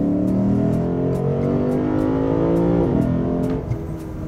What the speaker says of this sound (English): It is a really nice, smooth sounding engine.